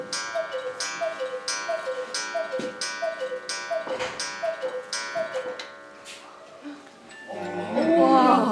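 Cuckoo clocks ticking in a Black Forest clock shop, with a regular tick-tock that carries steadily along with bright chime-like tones, then gives way to a voice speaking near the end.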